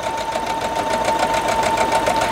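A home sewing machine runs steadily in a sewing room, a continuous mechanical whir with a fine rapid stitching rhythm at moderate loudness, heard alone throughout.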